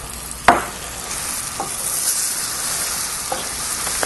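Butter sizzles steadily in a pan on a grill for peach cobbler, with a sharp scrape of stirring near the start and a few lighter utensil taps over the continuous frying hiss.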